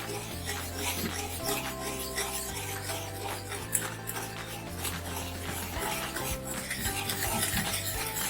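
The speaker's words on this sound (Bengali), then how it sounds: "কনস্ট্যান্ট ময়দা দিয়ে আমাদের এটাকে নেড়ে যেতে হবে, না হলে এটা দলা পাকিয়ে যাবে।" Spoon stirring and scraping a flour mixture constantly in a pan for chicken pizza, a continuous close rubbing and scraping texture with a sustained background hum throughout, no talking.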